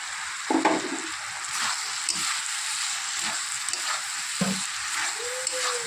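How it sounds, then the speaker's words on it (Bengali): Paneer curry frying in a pan hisses with a steady mid-level sizzle while a spoon stirs it, producing scattered scraping strokes and a few dull knocks against the pan. "একটু এটা নেড়ে চেড়ে নিতে হবে কিছুক্ষণ"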